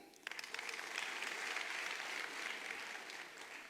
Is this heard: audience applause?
yes